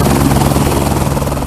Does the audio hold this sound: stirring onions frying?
no